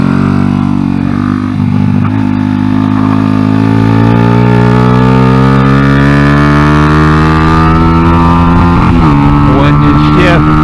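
A Honda NSF100 motorcycle fitted with a salvaged XR100 engine runs loudly up close while ridden, its engine note rising and falling steadily without any shifting, and a rider speaks briefly over it.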